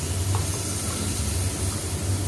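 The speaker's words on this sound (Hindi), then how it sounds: "अब ये हम दाल डालेंगे और इस दाल को भूनेंगे" Mixed lentils for panchmel dal are tipped into a pan with hing and roasted, giving a steady close hiss of dry frying over a low, constant hum.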